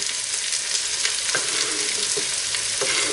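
Jalapenos and celery frying in a pan for red beans and rice, a steady, close, bright sizzle that fills the clip, with a few faint stirring scrapes and no voices.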